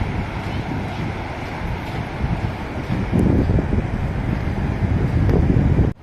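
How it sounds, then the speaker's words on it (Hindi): Sea waves washing onto Cansaulim beach on the Arabian Sea in Goa, a continuous rushing surf mixed with strong wind buffeting the microphone, growing a little louder partway through. "पानी की लहर चल रही है"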